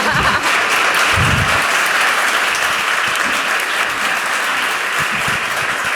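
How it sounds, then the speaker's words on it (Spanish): A crowd of attendees at a SEO talk event claps for a speaker being introduced, dense sustained applause that fills the room loudly and evenly for several seconds without a break. "Aplaudir, por favor."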